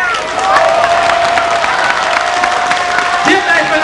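An audience at a folk music parade applauds and cheers, a loud dense wash of clapping running under a held tone and a speaking voice.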